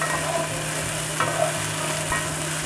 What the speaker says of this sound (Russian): По звуку вы слышите, что готовлю я на очень сильном огне, поэтому помешивать нужно постоянно.